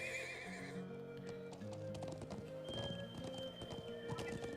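Horse hooves clip-clop steadily in the video game Trails of Cold Steel, with a neigh and game music playing underneath.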